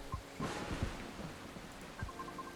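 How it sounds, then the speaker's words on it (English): Thunder rumbles in the video game Coffee Talk 2, with a few low, muffled booms over steady rain-like background ambience and faint tonal chimes, moderately quiet and with no talking. "But that was just thunder."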